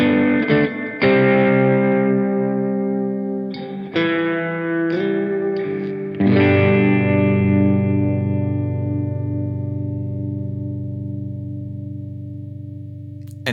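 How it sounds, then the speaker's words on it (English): Electric guitar chords strummed through a Boss/Fender pedal's built-in reverb, each strike followed by a long, slowly fading lush wash of sound, ending in a long sustain. "So here's the reverb."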